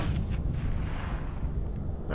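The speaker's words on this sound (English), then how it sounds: "That was my own explosion." A loud, sustained explosive rumble with crackling debris in the video game Sniper Army, filling the whole moment without pause.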